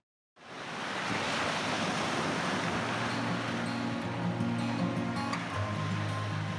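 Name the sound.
sea waves and wind at Ponta das Canas beach, Florianópolis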